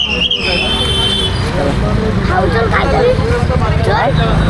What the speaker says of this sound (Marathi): हा बघा एस टी आली आता इकडं